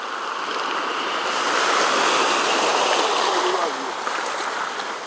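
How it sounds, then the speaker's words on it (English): Steady, broad rushing of Caribbean Sea surf washing onto Batalie Beach, West Coast Dominica, loud and continuous, with gusty wind noise over the microphone. "That's the Caribbean Sea."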